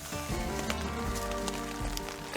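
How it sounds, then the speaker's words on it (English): Rain patters steadily on a wild camp beside a motorcycle, a dense, even hiss of drops with a few louder taps close by and no talking. "it's raining again, and we expected this actually"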